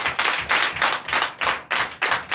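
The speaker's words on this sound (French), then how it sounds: "donnez de vives acclamations à notre maman" A church congregation at a Sunday worship service in Comè, Benin claps in strong rhythmic unison, loud bursts of hands pulsing about twice per second with no voices over them.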